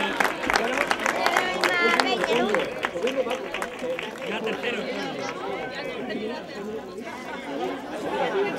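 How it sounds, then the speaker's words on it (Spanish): Scattered applause breaks out for the race winners at a San Silvestre trophy ceremony in Rota, then fades into steady crowd chatter and babble, with a voice speaking over the noise. "Fuerte aplauso para ellos."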